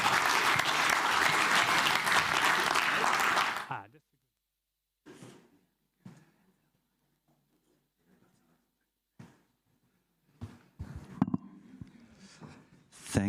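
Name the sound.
audience applause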